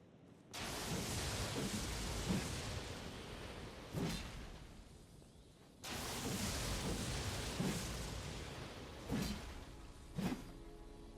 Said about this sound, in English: swing it around to create a tempestuous lightning storm